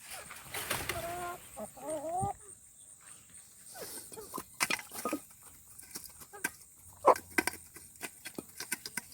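Hens cluck and squawk in short, scattered bursts, some close and loud, others softer, with a few drawn-out calls mixed in.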